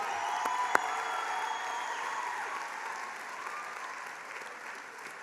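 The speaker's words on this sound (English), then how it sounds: "Ladies and gents, let's give them a warm round of applause." Warm applause from a graduation ceremony audience, a steady wash of many hands clapping at moderate distance, sustained evenly for several seconds without talk.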